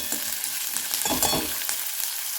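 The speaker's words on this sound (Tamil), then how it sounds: "அது பொரிஞ்ச உடனே நம்ம வெங்காயமும் பச்சை மிளகாயும் சேர்த்துக்கலாம். சேர்த்து நல்லா வதக்கி விட்டுருவோம்." Onions and green chilies sautéing in hot oil for an idli dish, a close, continuous sizzle with brief stirring scrapes partway through.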